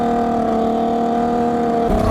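A 140HP sleeper ATV engine holds a loud, steady, buzzing drone at high revs, rising slightly in pitch at the very end.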